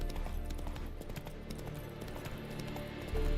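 A horse's hooves clip-clop at a steady walking rhythm in the video game Witcher 3, fairly quiet and close, with a low ambient rumble underneath and no talk.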